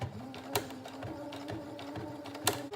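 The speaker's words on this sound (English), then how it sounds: "you're gonna sew very close to the outside edge" A sewing machine with an oiled walking foot runs close along the outside edge of a teddy bear jacket, giving a steady, near mechanical whir with a few sharper clacks.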